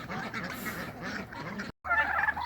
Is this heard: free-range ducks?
yes